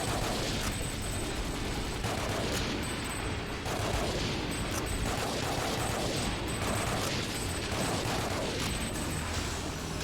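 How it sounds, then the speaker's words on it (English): Rapid, continuous machine gun fire in the arcade shooter Time Crisis, loud dense bursts with short gaps, mixed with game effects. "the machine gun fire, if you can do that with your gun, comes in super handy"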